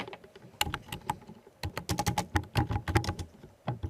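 Java code being typed on a computer keyboard, heard as dense, close-up bursts of crisp key clicks in quick irregular runs with brief pauses, alone without any talking.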